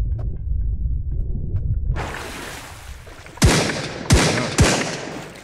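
Gunshots in the survival game Sunkenland: quiet rumble first, then a burst of noise and three sharp, loud cracks spaced about half a second apart.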